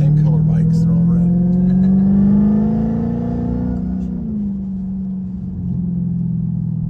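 A car drives along a road, its engine and road noise forming a steady, fairly loud low drone that rises slightly and then settles lower toward the end.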